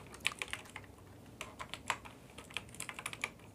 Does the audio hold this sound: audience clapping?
no